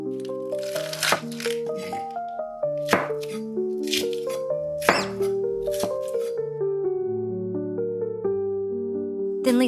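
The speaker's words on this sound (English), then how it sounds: "Cut the green onions into thin strips about 5 centimeters long." A knife chops green onions into thin strips on a board, giving a steady run of crisp, close taps and cuts set against soft background music.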